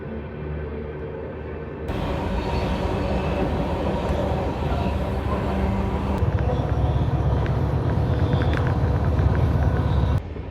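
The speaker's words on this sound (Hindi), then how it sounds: "सुबह 10:15 पर चल चुकी अपनी ट्रेन जाखल से, जाखल जंक्शन से" Shri Ganganagar–Delhi Intercity express, train 12482, running on the line near Jakhal Junction: a loud, steady rumble and rattle of the moving train, swelling heavier partway through, with no talk.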